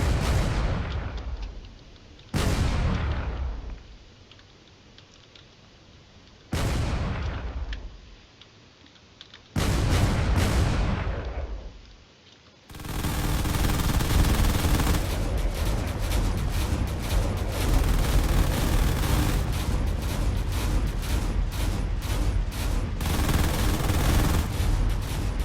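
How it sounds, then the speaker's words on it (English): Turret cannons in a drone combat video game blast away at an evading drone in loud, rapid bursts, several separate volleys with short pauses giving way to a continuous roar of fire. "He's doing his best to do some evasive maneuvers as these turrets are slowly taking off the armor."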